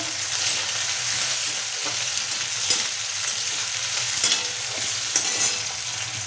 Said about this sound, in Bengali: এই যে পেঁয়াজটা টমাটমটা ভাজা হয়ে এসছে, অনেকটাই ভাজা হয়ে গেছে